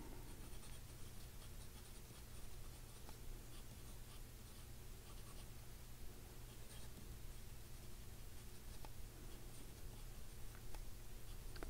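A Montblanc 147 Traveler fountain pen, newly refilled with blue-black ink, drags in faint, steady scratches across paper, the soft nib noise running continuously under a hiss of room noise.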